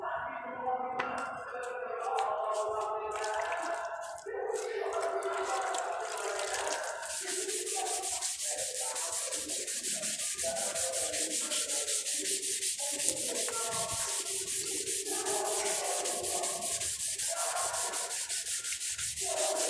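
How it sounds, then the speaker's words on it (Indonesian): Car body filler being wet sanded by hand with 1000-grit sandpaper, a steady close rasping rub in back-and-forth strokes that runs continuously without pause. "kita amplas"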